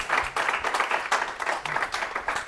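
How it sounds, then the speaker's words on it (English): A lecture audience applauds the speaker at the close of a Friday lunchtime talk, a steady patter of many hands clapping at moderate volume that runs unbroken for a couple of seconds. "I think we should give Ben a round of applause"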